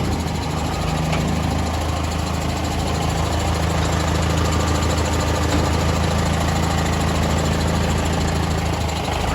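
A newly delivered truck's engine idles in Belpahari, Jhargram, as a steady, loud, unbroken mechanical drone with a faint knocking texture, with no voices over it.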